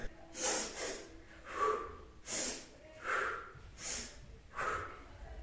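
Rhythmic breathing exercise imitating pumping bicycle tyres, with a child or group inhaling and exhaling forcefully in about six sharp, puffing breaths spaced roughly a second apart, close and fairly loud with no talk.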